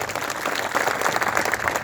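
An audience applauds to welcome a guest at a gathering, a short steady wash of many hands clapping together at moderate distance.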